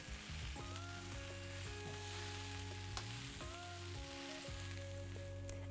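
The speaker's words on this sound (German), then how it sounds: "Dann kommen die Zwiebel- und Knoblauchwürfel dazu. Die werden 2 Minuten mitgebraten." Vegan mince with savoy cabbage, leek, onion and garlic sizzles in a pan with a steady frying hiss, while stirring adds scraping and a faint hum runs underneath, with no speech.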